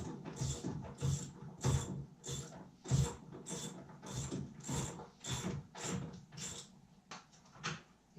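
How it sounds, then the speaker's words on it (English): A ratchet wrench tightens through-transom bolts to mount an outboard boat motor. About a dozen rapid, close clicking strokes repeat in a steady rhythm, with no talk. "Now I'm bolting it on. I like to use a couple through the transom bolts to make sure it's good and secure"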